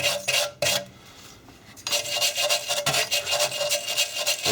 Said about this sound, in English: Give the back of it a good rub with the wire brush.